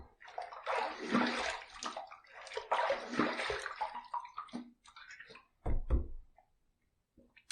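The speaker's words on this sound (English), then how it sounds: "Let's rinse." A Fine Marvel safety razor is rinsed in running water after shaving, giving two long bursts of splashing and swishing, then a few short clinks and drips near the end.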